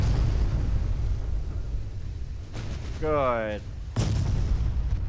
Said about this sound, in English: Battleships are really opening that guy up